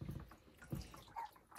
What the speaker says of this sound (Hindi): थोड़ा थोड़ा पानी डाल रही है ऊपर से